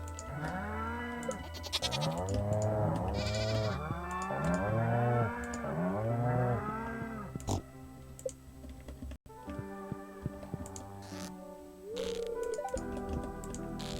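Farm animals in the Stardew Valley video game, goats among them, call repeatedly in overlapping bleats and moos. The bursts come in a steady run and then give way to quieter game sounds and clicks.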